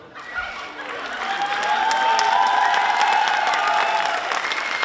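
Audience applause at a Hungarian women's carnival evening swells from moderate clapping into a louder, sustained ovation, mixed with crowd cheering and raised voices.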